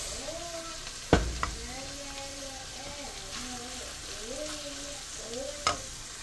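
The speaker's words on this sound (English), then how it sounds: "Okay guys, so now I'm going to be adding my rice." Rice is stir-fried in a pan for shrimp fried rice, giving a steady sizzle with a few sharp utensil knocks against the pan; a voice speaks softly over the cooking.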